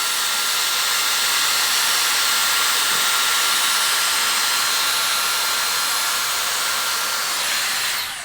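A Dyson Airstrait straightener blows a steady, loud airflow hiss as it is passed slowly through damp hair. The whoosh holds constant and close throughout, with no talking over it.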